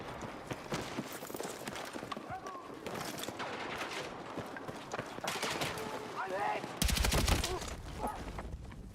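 Gunfire crackles through a Battlefield 6 match, scattered shots and rapid bursts sounding at middle distance amid battlefield noise, with a heavier close volley near the end and voices talking over the action.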